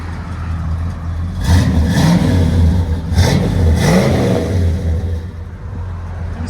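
Ford F-250 truck with a 7.5L (460) V8 and Flowmaster Super 40 true dual exhaust revving outdoors in wind, several deep throaty rev bursts rising over a rumbling idle, loud and close.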